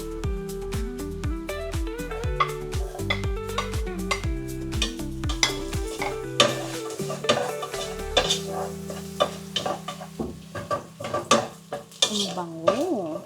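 Garlic frying in a pan for tinolang manok chicken soup, a steady sizzle under repeated spatula scrapes and clinks, with gliding tonal whines early on.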